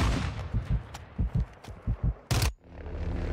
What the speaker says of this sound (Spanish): Respeto esos tiros, muy buenos tiros.